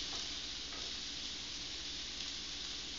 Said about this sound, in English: I'm going to lightly saute the onions.